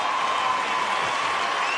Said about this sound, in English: You deserve all the applause you got today.